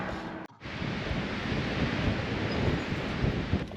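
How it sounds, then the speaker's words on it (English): Heavy, roaring wind buffets the microphone almost continuously in Carlsbad, New Mexico, with a brief drop in the noise near the start; no voices. "Oh man, another windy day."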